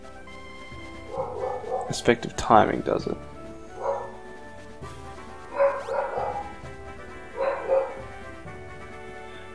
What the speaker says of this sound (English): Dog's just going off.